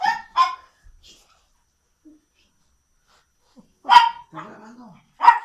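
A dog barks in short, loud, close bursts, two quick barks at the start and more later, with a brief question spoken in between.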